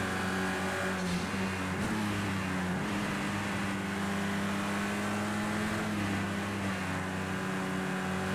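Race car engine on a qualifying lap in Project CARS 2, droning steadily and loudly with a sustained tonal hum and slight shifts in pitch as it holds its speed.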